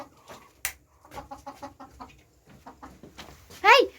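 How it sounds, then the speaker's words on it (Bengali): Hens cluck inside a poultry shed on a small home farm, with short, repeated nearby clucks that build to a louder squawking call near the end. "তো দেখো আমাদের ফার্মের ভিতরের মুরগিগুলো কি করতেছে"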